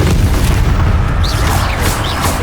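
An Incendio fire spell blasting in the video game Hogwarts Legacy, a loud, sustained booming roar that fills the whole moment with no talk over it.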